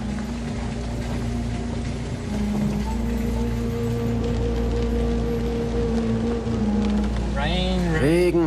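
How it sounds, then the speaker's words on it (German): Rain falls at a treehouse building site, a steady, even patter filling the whole stretch, with a voice briefly at the end. "Regen, Regen, Regen."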